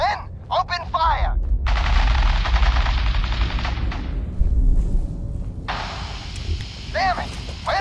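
Bursts of rapid automatic gunfire during a firefight in the video game Fallout 4, loud and sustained in two long volleys, with game character voices shouting before and after.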